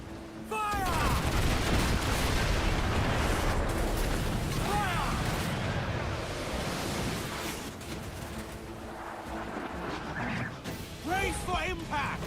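Ship cannons boom and guns crackle in a naval battle in the video game Assassin's Creed Black Flag, heavy continuous blasts and crashes layered with shouting voices, loud throughout with a few sharper impacts near the end.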